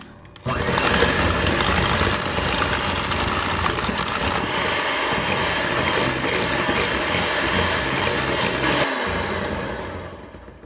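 An electric hand mixer whirs continuously at close range as it beats cheese, egg yolks and sugar together, a steady buzzing drone that runs for about ten seconds before winding down.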